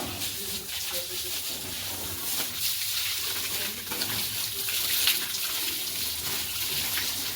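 A 3630 tractor being washed down with water: a steady, continuous hiss and gush of spray, even in loudness throughout and close by.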